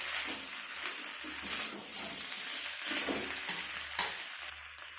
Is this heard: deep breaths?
no